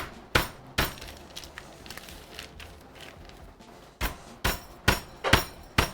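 A mallet pounds a thick piece of meat flat in a kitchen, uneven sharp thuds with slight rattles and clinks, a few spaced blows followed by a quicker run of strikes at close range.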